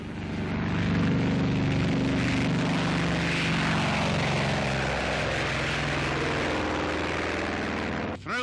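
A Grumman Hellcat fighter plane roars past with a loud, steady propeller-engine drone that holds for several seconds and dips briefly near the end.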